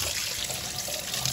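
Tap water runs steadily into a dish of salt cod pieces laid skin-side up, a continuous close hiss and splash with no pauses.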